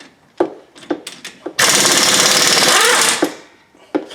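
Impact wrench rattling loose the brake caliper bolts on a 2011 Toyota Sienna front brake, a sustained loud hammering burst of about a second and a half, bracketed by short metallic clicks and clunks of handling.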